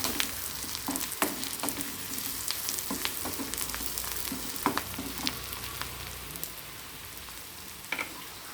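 Onions and chopped cucumber fry in a pan with a pinch of asafoetida while being stirred, a steady crackling sizzle dotted with sharp spatula clicks and scrapes throughout.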